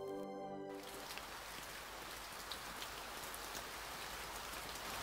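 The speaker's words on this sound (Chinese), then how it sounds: "哗啦啦，哗啦啦，下雨啦！ 听到雨声" A rain sound effect in a children's audiobook, quiet steady pattering and hissing of rainfall that follows a brief musical chime at the start.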